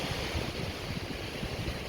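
Surf rolling onto Side public beach in Antalya on an evening with slightly choppy sea, a steady broad wash of breaking waves with some wind rumble, no voices.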